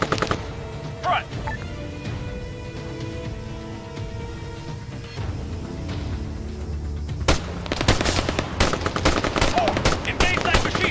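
Video game gunfire crackles in rapid bursts, with machine-gun rattles and single shots growing denser and louder toward the end, under game voices and ambient battle noise.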